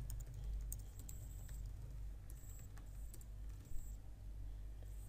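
Python code being typed on a computer keyboard, soft, rapid keystroke clicks over a low, steady background hum, with no talk.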